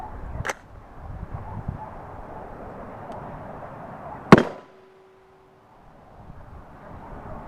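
A single sharp rifle shot of 62 grain IMI 5.56 ammunition striking Level III+ body armor, a loud close crack followed by a brief ringing decay, against outdoor background noise and a faint earlier knock.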